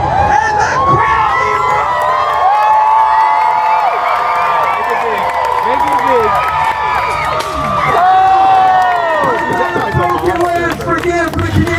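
A large crowd cheers and whoops continuously at a Renaissance fair joust, loud and sustained with excited shouts and children's voices mixed in.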